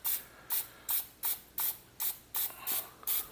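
A can of cooking spray hisses onto a cordon bleu meatloaf topped with noodles, eight short, even bursts in a steady rhythm, close and crisp with no talking.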